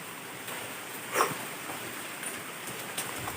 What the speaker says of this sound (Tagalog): Maulan dito.